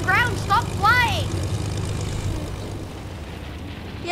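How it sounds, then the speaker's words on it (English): Propeller aircraft engine droning in a multiplayer video game, a steady low hum running under loud, overlapping talk from players throughout. "I'm getting a new plane because that plane's almost dead"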